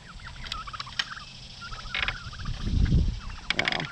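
Turkeys gobble in short bursts, several calls overlapping at moderate distance with scuffling and pecking sounds between them.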